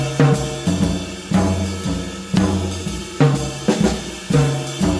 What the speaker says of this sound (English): If you wanted to use the tom-toms, and you can just orchestrate that randomly